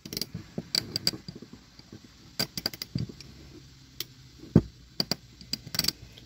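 A vintage Snap-on 71A 1/2-inch drive ratchet from the 1930s to 1960s being worked by hand, giving sparse, close metallic clicks and ticks with small handling knocks and scrapes between them.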